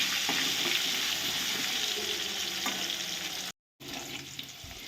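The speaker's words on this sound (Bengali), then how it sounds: "এবার আমি আলুগুলোকে ভালো করে ভেজে নেব" Potato pieces seasoned with salt and turmeric frying in oil, a steady close sizzle with soft crackles and occasional stirring, broken by a brief moment of silence before the sizzling resumes.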